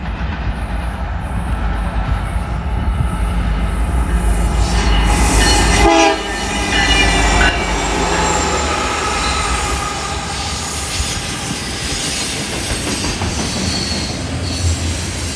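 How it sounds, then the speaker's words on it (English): An eastbound CN freight train passes Brantford Station, sounding its horn loudly, followed by a steady roar and rumble of rolling cars with occasional wheel squeal, heard close with no voices. "Here comes a CN eastbound."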